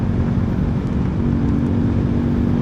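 A six-year-old Euro Rock R125 motorcycle engine running steadily while riding on the road, a constant low droning hum with steady rumble and wind noise, close and loud throughout without talk.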